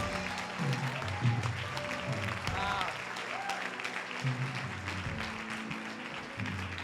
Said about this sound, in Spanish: Un aplauso a tu papá